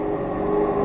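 A Shelby GT500 accelerates on a track during a driving course, its engine a steady, loud drone with a sustained tonal whine, held at constant level throughout without voices.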